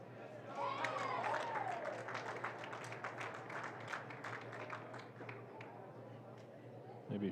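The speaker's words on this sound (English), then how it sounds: "Maybe you heard the applause in the background." Scattered applause rises from spectators at a college track meet as a men's pole vaulter clears the bar: distant, uneven clapping that lasts several seconds beneath ongoing crowd murmur and talk.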